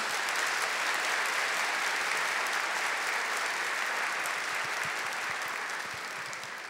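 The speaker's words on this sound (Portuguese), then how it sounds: "Vamos aplaudir a palavra de Deus." A church congregation applauding during a Catholic Mass after the Gospel reading, a full, sustained wash of many hands clapping that fades slightly toward the end.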